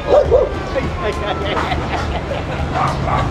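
A dog barks and whimpers in a few short yips near the start, with babbling voices and outdoor commotion continuing throughout.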